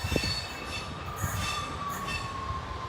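An East Midlands Railway passenger train running from Liverpool Lime Street to Peterborough rumbles past with a steady roar and a thin, drawn-out metallic wheel squeal.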